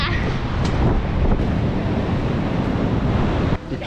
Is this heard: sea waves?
yes